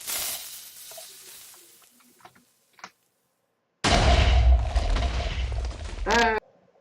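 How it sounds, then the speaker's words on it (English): A TNT cannon in Minecraft fires at the player, bursting into a loud, dense, sustained explosive roar for about two and a half seconds after quiet game clicks, then cutting off abruptly. "I'm going to shoot myself in the face with a TNT cannon."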